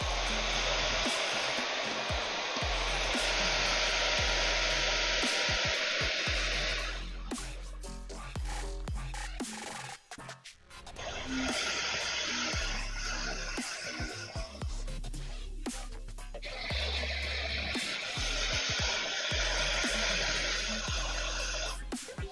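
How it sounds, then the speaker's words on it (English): A hair dryer blows in long steady roaring bursts, cutting out briefly between runs, loud and close with no talking. "just going to turn on the old hairdryer."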